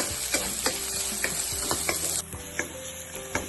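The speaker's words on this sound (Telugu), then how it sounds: "ఇప్పుడు ఉల్లిపాయలు ఇవి కొంచెం వేగనివ్వాలి." Onions frying in hot oil with cinnamon, cardamom, bay leaf and cloves in a pan, a steady sizzle broken by regular scraping taps of a stirring spoon, close and without talk.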